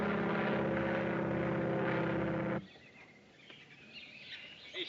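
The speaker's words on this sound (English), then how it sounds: "That won't hurt you. It's only an airplane." A propeller airplane roars loudly overhead for a couple of seconds, then cuts off abruptly to a quiet background with faint chirping, in a 1938 adventure film.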